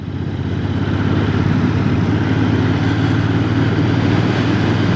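A Royal Enfield motorcycle engine pulls steadily in sixth gear below 2000 rpm on a country road, a loud continuous low drone with wind rush and no pauses.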